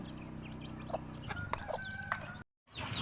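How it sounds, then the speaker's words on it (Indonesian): A hen and her chicks forage outdoors, giving soft, scattered clucks and short peeps near and far against quiet farmyard background, broken by a brief gap near the end. "Lagi mencari makan ayam sama induknya."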